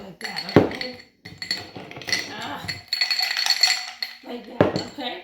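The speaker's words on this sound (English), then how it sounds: "Take your potato, put it in the glass of ice. Swish it around." A potato is swished around in a glass of ice, giving sharp clinks and rattling chatter of ice against glass, close by, with people talking over and between the clatter.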